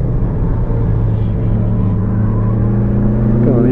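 A Nissan S15 drift car's engine holds a loud, steady droning rev close by, its pitch rising slightly toward the end.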